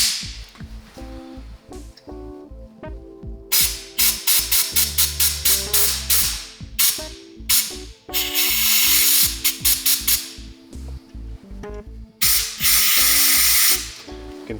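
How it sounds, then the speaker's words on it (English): A compressed-air blowgun fed from an air compressor blows air through a small engine being revived, firing in short sharp hissing bursts and a few longer blasts, loud and close, over a low hum. "I'm gonna go grab that blowgun from the air compressor."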